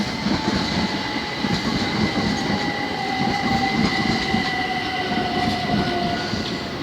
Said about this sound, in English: Obviously you've got the railway there.